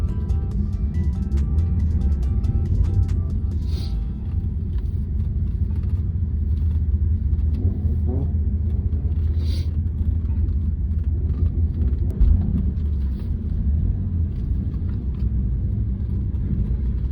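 Low, steady engine rumble from JDM cars rolling out of a private meet in Sydney, a continuous drone with a few brief higher bursts as cars move off, and voices faintly under it.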